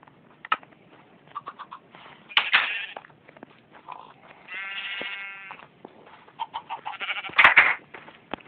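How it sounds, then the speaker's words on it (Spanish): Minecraft sheep bleating in a video game, several short wavering bleats scattered among quieter clicks and game sounds, fairly faint and with no talk. "tengo mis ovejas, que ya hay una sobrepoblación"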